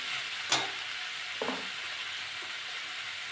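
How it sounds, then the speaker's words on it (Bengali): Boiled papaya pieces fry in a pan, a steady sizzle running throughout while a spatula stirs them, with a couple of sharp scrapes and clinks standing out nearby. "এটা নেড়ে চেড়ে ভালো করে ভেজে নিয়েছি"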